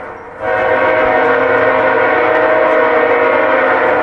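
A train horn blares loud and close, a sustained multi-tone blast that swells up suddenly and then holds steady over the rumble of the passing train.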